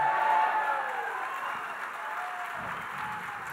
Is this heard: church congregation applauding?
yes